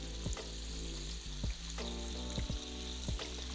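Shrimp frying in a pan with sesame oil and soy sauce, a steady close sizzle with occasional sharp crackles and pops and faint clinks from stirring.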